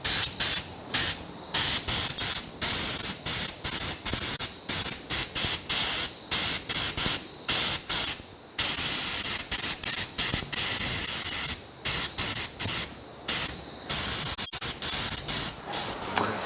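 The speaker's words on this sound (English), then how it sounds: "I'm going to actually lightly spray it over with some of my blue paint" Blue spray paint hisses from an aerosol can in light, repeated bursts over a painted piece, short broadband blasts separated by brief gaps, close and steady, with no talking.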